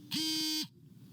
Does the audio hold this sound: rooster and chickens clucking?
no